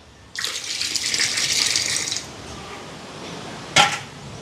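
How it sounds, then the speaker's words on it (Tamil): Coconut milk is poured into a cooking pot in a steady, splashing stream for about two seconds, followed by quiet and then a single sharp metallic clink of a utensil or vessel. "இதுக்கு தேங்காய் பால் சேர்க்குறேன் ரெண்டாம் பால் மூன்றாம் பால் இதோட முதலாம் பால்"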